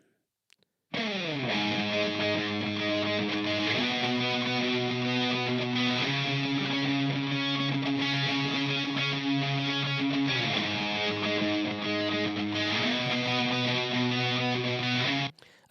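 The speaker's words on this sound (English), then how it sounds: "I've got solo guitar left, solo guitar right" PRS electric guitars through a Mesa-Boogie TA-30 play a distorted solo part panned left and right, a sustained, dense, loud riff with shifting chords running steadily for about fifteen seconds.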